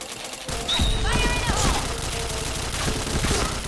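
Rapid gunfire bursts from a shooter video game, dense and continuous over about three seconds, loud and close, with faint game sounds and brief voices mixed in.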